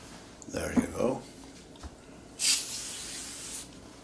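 An aerosol spray can lets out a single bright hiss of about a second, following a short stretch of speech in a quiet room.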